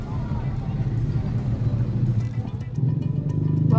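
Continuous low rumble of road traffic near Southland in Alabang, with engines droning steadily and swelling slightly toward the end, heard from close by without speech.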